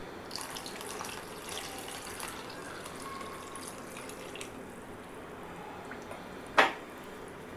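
Water poured into a pan of cauliflower masala curry in a home kitchen, a soft steady splash running under faint background noise, ending in a single sharp clink near the end.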